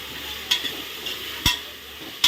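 Food fries in a home kitchen pan with a steady hiss of sizzling oil, broken by three sharp clicks of a utensil striking the pan, close and with no voices.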